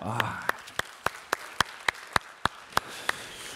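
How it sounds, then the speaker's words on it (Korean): Church congregation clapping in encouragement during a worship service, heard as a single pair of hands beating a slow, evenly spaced rhythm of about a dozen sharp claps, close and clear over a quiet room. "우리 이렇게 한번 격려의 박수 한번 할까요?"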